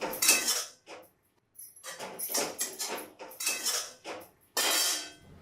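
Dishes, pots and cutlery are banged about angrily in a home kitchen, a series of loud clattering bursts with short pauses between them and no talk.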